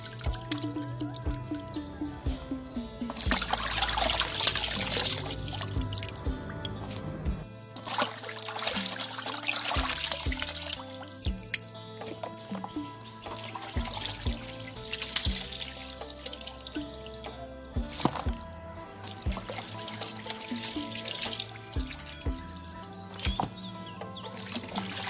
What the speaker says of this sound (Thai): เฮาก็สิไปล้างน้ำอีกประมาณ8-9น้ำพุ่นล่ะค่ะ